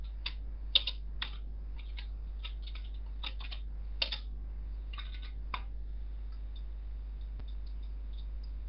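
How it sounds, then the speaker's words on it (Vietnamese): A CAD command being typed on a computer keyboard, a brisk run of crisp key clicks in irregular bursts, thinning into a few scattered taps over a steady low hum, close and clear. "nhập lệnh trực tiếp từ bàn phím"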